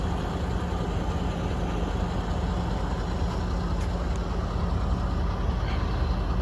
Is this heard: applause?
no